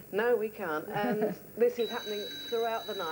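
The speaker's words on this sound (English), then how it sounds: "that's the fire alarm" A building fire alarm sounds as a steady high electronic tone, starting about halfway through and continuing to the end, heard behind close indoor conversation between several people.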